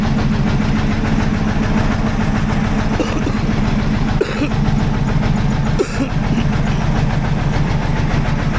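A boat engine runs steadily on a park lake, a loud, close, even drone with a low pulsing throb and a couple of brief knocks or dips.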